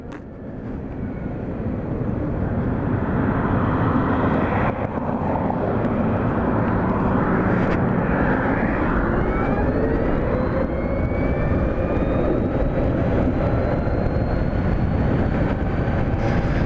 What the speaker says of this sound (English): Harley-Davidson's new electric motorcycle.